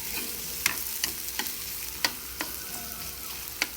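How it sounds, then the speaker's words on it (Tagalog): Garlic sizzles and browns in a pan, a faint steady frying hiss broken by several sharp clicks and taps of a utensil stirring. "Yung pinagbabrown mo yung bawang."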